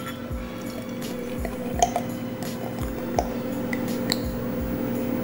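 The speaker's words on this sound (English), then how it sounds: "let's go and give her a pour." Hazy New England beer from Mikerphone Brewing glugs and splashes into a glass in a rhythmic series of gurgling pours, fairly close and moderately quiet, with faint clinks over a low steady hum.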